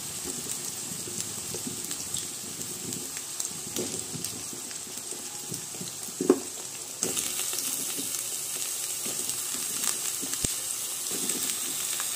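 Diced potatoes and pumpkin frying in a pan, giving a steady, soft sizzle with faint crackles and one sharp clink from a utensil, the sizzle growing slightly louder partway through.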